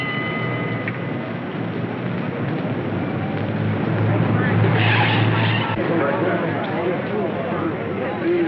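Car skidding in an old vintage comedy film, a sustained broadband screech and rumble swelling near the middle, heard over continuous background noise from an old soundtrack.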